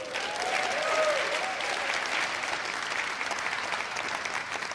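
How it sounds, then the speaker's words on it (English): Steady, full applause from the audience at the official opening of the Namibia International Energy Conference, a broad wash of many hands clapping at an even level throughout, with no speech over it. "Let's give a round of applause to the females"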